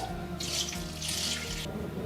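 Water poured off settled potato starch runs into a kitchen sink in two splashing bursts, a short gush and then a longer steady stream, close and clear with no talk.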